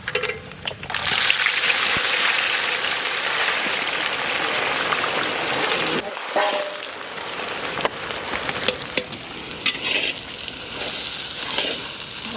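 Onions tipped into hot oil with whole cumin, coriander, garam masala and bay leaf, setting off a loud, dense crackling sizzle like heavy rain. It dips briefly midway and then carries on steadily, close by.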